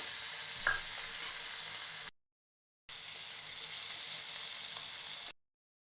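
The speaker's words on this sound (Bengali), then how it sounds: "করে রেখেছি সেটা একটু তেলে ভাজবো" Oil sizzles and crackles in a steady hiss, cut off by a short silence, then the frying resumes just as loud before stopping again.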